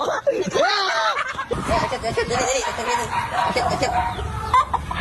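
Chickens, including chicks being set against each other to fight, cluck and squawk busily close by, overlapping with people talking throughout.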